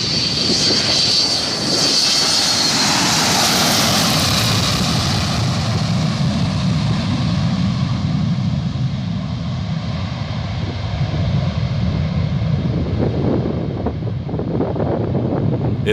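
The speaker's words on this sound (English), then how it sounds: "This Boeing 727 pilot couldn't wait to retract the landing gear." A Boeing 727 jet taking off and retracting its landing gear, heard as a loud, continuous engine roar with heavy wind buffeting on the microphone and no voices.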